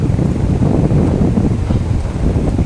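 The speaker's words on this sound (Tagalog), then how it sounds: "Mahangin kasi dito ngayon kaya medyo maalon siya" Strong wind blowing over a lakeside boulevard with waves, a loud, continuous rushing roar buffeting the microphone, no talk.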